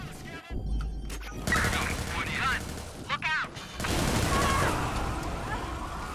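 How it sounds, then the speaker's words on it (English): Explosions and gunfire in the Watch Dogs 2 video game, a burst of bangs and crashes near the start and again midway, loud against busy game sound, with a player's voice talking over it. "stuff exploded"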